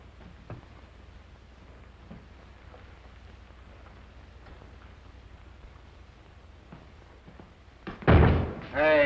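A door slams hard in a 1938 western film, a single sharp, loud bang that comes near the end after a quiet stretch of soft rain-like hiss, followed by a further loud burst.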